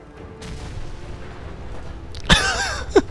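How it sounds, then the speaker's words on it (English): A big explosion erupts in Fallout 4 after a quiet lull, a sharp loud boom followed by ringing debris and two further sharp pops. "we're gonna have a big explosion here"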